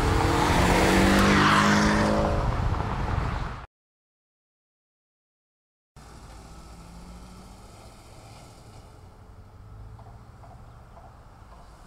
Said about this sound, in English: you won't find another four-cylinder in the world that sounds like this